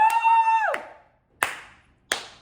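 A sung or vocal whoop gives way to two sharp, well-spaced hand claps, each loud and close with a short ringing decay.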